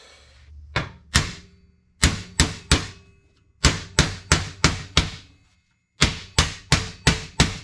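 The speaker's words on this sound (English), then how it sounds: "I think I can bang it out right here. Handy dandy body hammer." Sharp metallic body-hammer blows on a K5 Blazer's sheet metal ring out in quick bursts of three to five strikes, separated by short pauses, close and loud.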